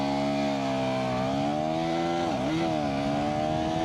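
A KTM 350cc street motorcycle engine on a test ride drones loud and close in a steady harmonic note, dipping briefly as the rider shifts or eases the throttle before climbing again.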